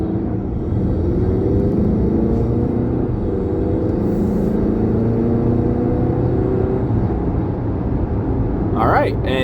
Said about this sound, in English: I could hear a little bit of the turbo swirling